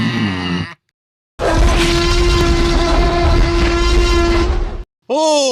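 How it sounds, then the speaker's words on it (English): An air horn in a prank blasts a loud, sustained, piercing tone for about three and a half seconds, close and overwhelming. Brief voices come just before and right after it. "Got the air horn ready?"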